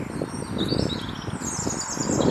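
Birds twitter faintly in the distance over a steady rumbling background of road traffic with soft rustling, in an urban woodland in Wilhelmshaven, Germany.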